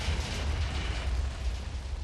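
Explosions from a Minecraft game session, heard as a dense, continuous low rumble of blasts lasting the whole moment, steady and fairly loud with no talk over it.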